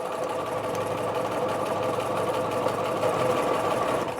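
Sewing machine running steadily while stitching around a dress hem facing, a continuous even whir held close without pause.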